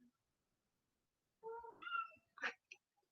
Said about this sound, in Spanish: ¿Escuchan como unos golpes y unos maullidos?